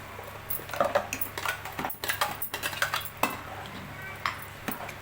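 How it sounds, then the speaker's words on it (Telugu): Ground masala paste goes into a pot of village-style mutton curry and is stirred in, with close metallic clinks and scrapes of a spoon against the pot in irregular bursts over a faint background. "ఇలా వేసుకొని ఒకసారి కలుపుకుందాం"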